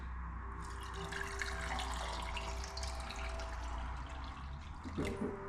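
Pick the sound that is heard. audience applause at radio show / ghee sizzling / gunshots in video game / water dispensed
water dispensed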